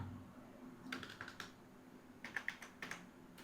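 Text is typed on a computer keyboard in a few short clusters of soft keystroke clicks, close and fairly quiet, separated by brief pauses.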